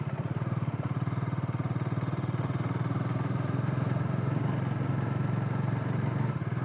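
Bajaj Dominar 400 motorcycle on a night ride, its engine giving a steady, low, even throb near the microphone with a faint rushing background, unbroken and quiet overall.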